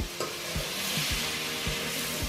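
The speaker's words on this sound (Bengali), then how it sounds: "এখন এটি ভালো করে ফ্রাই করা হবে। ফ্রাই করা হচ্ছে, একটু মিশিয়ে নেব" Potatoes, cauliflower and green peas fried in oil in a wok, a constant sizzle broken by regular knocking strokes of a spatula roughly every half second, close and with no talking.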